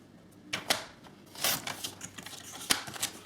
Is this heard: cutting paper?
yes